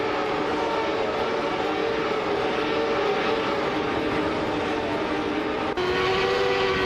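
Lola T95 race car roaring steadily through a racing video game, a loud continuous engine whine with shifting pitch and a brief break near the end, no voices.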